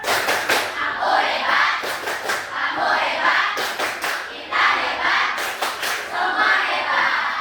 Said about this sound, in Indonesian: Mari kita tunjukkan dengan tepuk hebat. Tepuk hebat.